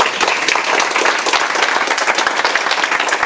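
Audience applause during a choir singing workshop, a dense, steady wash of many hands clapping close by for the whole stretch, loud and continuous without talk.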